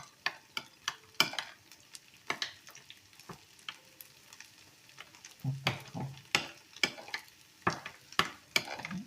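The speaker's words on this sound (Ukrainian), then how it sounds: "от смажено в двох сковорідках" Potato pancakes sizzle and crackle in a frying pan, with frequent scraping and clattering of a utensil stirring, close and fairly quiet.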